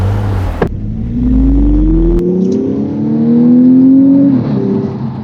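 A 2015 Audi S5 Sportback Black Edition engine revs up and accelerates hard, pitch rising steadily through several seconds, loud and close, with no talking.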